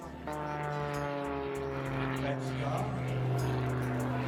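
P-38 Lightning and T-28B Trojan propeller aircraft fly past at an air show in Gdynia, a loud sustained engine drone with steady harmonic tones and a rising rumble, continuous and close throughout.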